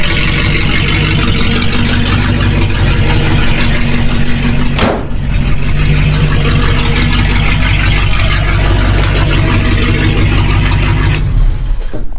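A 1967 Ford F250 idles loudly with straight pipe exhaust, a steady, close, rumbling drone with a faint ticking, broken by one short sharp knock midway.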